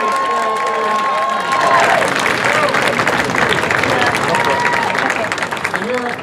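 An audience at a gathering on abolishing the death penalty claps and cheers, with steady applause mixed with crowd murmur and a sustained tone early on.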